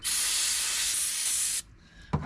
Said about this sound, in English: Wet it with brake clean.